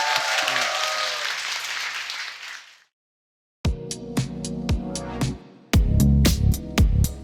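A wave of studio audience applause and cheering on a Korean variety show that fades into a brief silence, then a music track with punchy beats kicks in.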